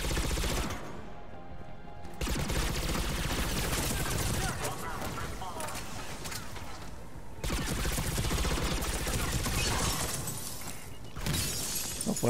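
Turrets in the video game Mass Effect 3 unleash bursts of rapid gunfire with shattering impacts, coming in long loud bursts separated by brief pauses, while a voice talks underneath.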